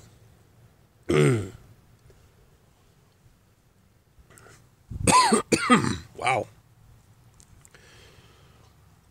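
A sharp single cough followed a few seconds later by a burst of harsher coughing and throat clearing, close up, with a brief spoken exclamation.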